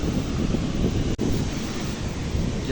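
Sea waves on a beach wash in as a steady, loud roar of surf, thick with wind noise across the microphone and unbroken except for one brief dropout.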